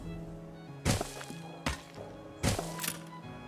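Gunfire from a pirate ship battle in the Anno 1800 strategy game: three sharp, loud shots spaced about a second apart, each with a brief rumbling tail over a steady, faint tonal game backdrop.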